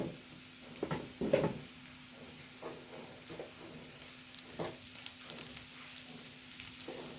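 Garam masala is stirred into a frying pan, giving soft sizzling and a few scraping stirs, fairly quiet and close, with short louder scrapes early on.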